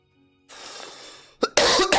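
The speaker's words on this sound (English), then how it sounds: "I've had a really bad cough today." A person with a bad cough clears their throat and then coughs twice, loud and close, the last cough harsh and sustained, with faint background hiss before it and no talk.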